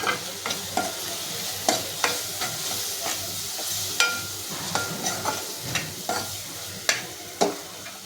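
Turmeric and goda masala are stirred in a frying pan for a fish curry, with a constant close sizzle and regular spatula scrapes and taps against the pan.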